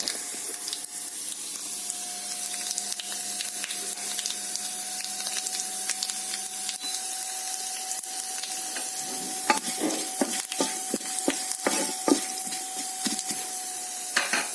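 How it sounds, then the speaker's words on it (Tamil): Mustard seeds tempering in hot oil for a millet (varagu) pongal, a faint steady sizzle broken by scattered sharp pops and crackles that grow busier toward the end, with no talk. "நல்லா பொரிஞ்சிருச்சு இந்த தாளிப்படுத்தி இந்த பொங்கலில் ஊற்றிட வேண்டியதான்"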